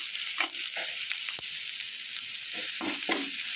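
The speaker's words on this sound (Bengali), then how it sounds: "শুকনো লঙ্কা দিলাম, কোচানো পেঁয়াজগুলো দিয়ে একটু নাড়িয়ে চাড়িয়ে নেব। একটু লাল লাল করে ভেজে নেব।" Sliced onions and dried red chillies sizzle steadily in hot oil in a pan, with a few scraping stirs of a spatula breaking through the continuous frying hiss.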